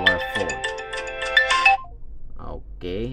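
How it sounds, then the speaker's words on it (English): A ringtone plays loudly and close from an AOLON Huafit Watch S6 smartwatch, a bright repeating melodic phrase that cuts off. A voice follows briefly afterward. "we are dialing the number of Cindy"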